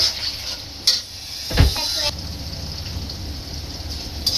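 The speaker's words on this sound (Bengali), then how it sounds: "আমার এই যে বেরেস্তাটা হচ্ছে একটু লাল হয়েছে, ভাজা হবে আরো" Onions frying in a pan for beresta over a low gas flame give a continuous sizzle, with a few metal scrapes and a louder clatter of stirring partway through.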